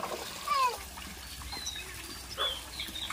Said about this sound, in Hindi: और जो सामग्री लगेगा सबको अच्छे से धो के साफ कर लेंगे, और धो के हम इसे पलट देंगे ताकि इसका पानी अच्छे से निकल जाए।